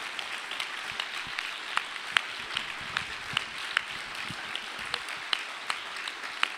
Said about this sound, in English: So just by another clap of hands